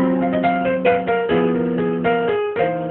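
A blues piano riff of dissonant, funky chords is struck in a loose, syncopated rhythm, each chord ringing close and full before the next hits.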